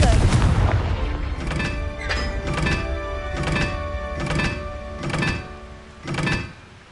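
Confringo fire spell blasts in Hogwarts Legacy, six sharp booming impacts spaced about a second apart after an opening rumble, each ringing with a bright tonal shimmer and fading quickly.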